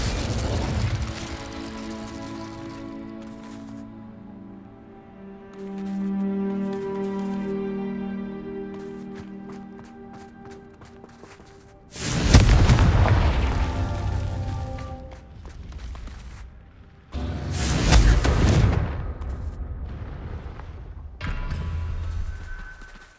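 Confringo blasting spells from the Hogwarts Legacy video game go off as two loud, booming explosions with crackling debris, followed by a smaller burst near the end, after a stretch of quieter background game music.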